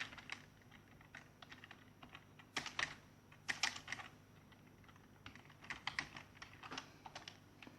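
A computer keyboard is typed on with caps lock engaged, giving irregular bursts of fairly quiet key clicks with short pauses, some strokes sharper and louder than others.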